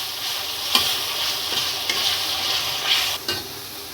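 Potato pieces frying in hot oil give a dense, bright crackling sizzle that holds steady throughout, broken by a few sharp spatula clacks, close and loud with no talking.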